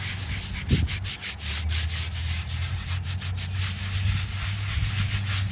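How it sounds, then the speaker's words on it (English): A Civil War surgeon's headstone is scrubbed clean: a brush rubs hard and continuously across the stone in quick rasping strokes, loud and close, with a low hum underneath and no talking. "So now that it's hit, we'll give it a second scrubbing here."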